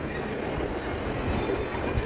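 A train runs through a station, producing a steady loud rumble of wheels and carriages with faint metallic squeal, continuous and close with no voices.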